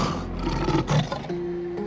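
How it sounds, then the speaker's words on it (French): Hungry lions roar in a deep pit in an animated fairy tale, a loud, rough, sustained roar with swelling peaks and no talking. "Dans cette fosse se trouvaient des lions affamés qui attendaient que quelqu'un tombe pour le dévorer."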